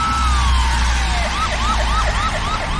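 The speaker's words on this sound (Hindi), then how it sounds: "अरे लगता है कि एम्बुलेंस भी आ रही है।" An ambulance siren sweeps down and then wails in a rapid, repeating warble, loud and close over traffic rumble.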